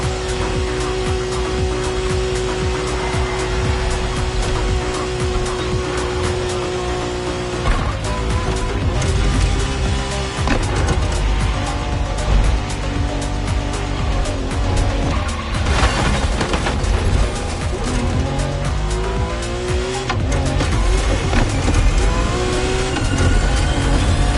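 A special Honda NSX race car engine in The Crew roars loudly through a race, its revs climbing and dropping repeatedly with occasional impacts and tire noise layered in.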